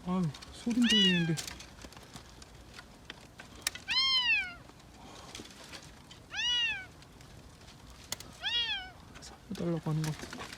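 A kitten, apparently stuck somewhere out of sight, gives several high, plaintive meows spaced a second or two apart, fairly close, while people speak quietly in between.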